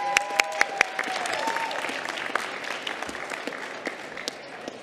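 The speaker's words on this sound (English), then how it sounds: "quick round of applause again for Subani, the Training Transitions Committee," An audience at a medical fellows' championship event applauds a training committee, a steady crowd clapping with a few sharp, close claps standing out at the start, sustained evenly throughout.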